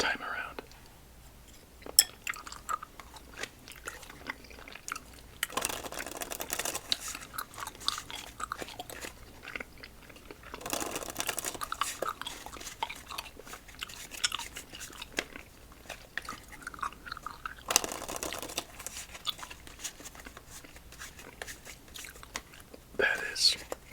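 Orange Albanese gummy candy being chewed up close, soft irregular wet bites and mastication sounds running throughout, with quiet whispered talk in between.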